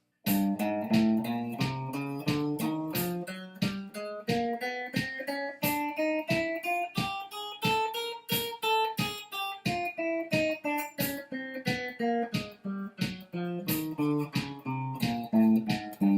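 A guitar picks a steady run of single notes, each one struck separately in an even rhythm, climbing up and back down. Played alone at moderate volume.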